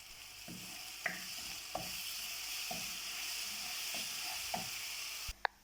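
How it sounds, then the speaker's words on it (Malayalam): Pork pickle masala being sautéed on high flame makes a steady frying sizzle, with a few sharp scrapes and clicks of stirring against the pan spaced through it and a louder knock near the end. "നിങ്ങൾക്ക് തീ കൂട്ടി വെച്ച് നന്നായിട്ട് അതിനെ വഴറ്റിയെടുക്കാം"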